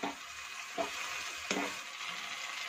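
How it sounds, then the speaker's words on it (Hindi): Tomatoes and tomato ketchup sizzle in a frying pan as they are stirred, with soft frying crackle and a few brief scraping strokes, close and fairly quiet, no voices. "अब मैं इसमें टोमेटो केचप ऐड कर दूंगी और इसे मैं अच्छे से मिक्स कर लूंगी"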